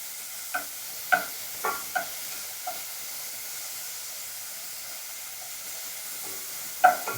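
Meat sears in a pot for Japanese curry rice, a low steady hiss punctuated by several distinct clacks and scrapes of a utensil against the pot, close and fairly quiet.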